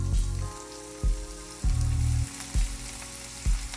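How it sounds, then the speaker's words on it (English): Half a cup of onions sautéing in hot olive oil for a vegan Cuban sandwich filling, a steady close sizzle broken by soft thumps about once a second as the pan is stirred, with no talk. "add in our half cup of onions"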